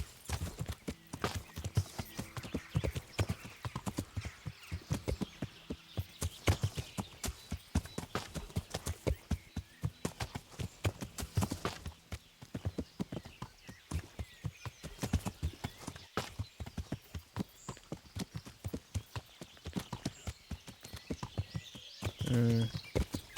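In Kingdom Come: Deliverance, a horse's hooves clop in a rhythmic, steady run of distinct, close hits, with a whinny near the end and occasional talk.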